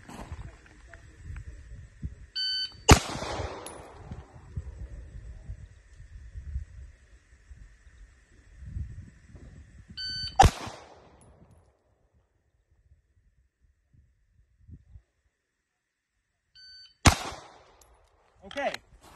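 Three sharp, loud pistol shots, fired with a red dot sight at close range, spaced several seconds apart, each preceded by an electronic timer beep, with someone talking quietly between them.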